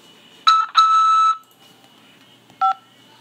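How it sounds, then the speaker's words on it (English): Keypad tones on a prison phone call from a corrections facility, with two quick touch-tone beeps close together, a short pause, then one more brief tone, crisp and loud with no talk over them. "After the beep, press 5 to accept this call."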